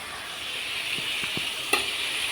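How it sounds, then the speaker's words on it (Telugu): Vegetables for a curry frying in oil in a pan, a steady soft sizzle with a few light stirring taps and one sharper clink near the end, close and alone. "ఇలా బాగా ఆయిల్లోనే కాసేపు మగ్గనివ్వాలి."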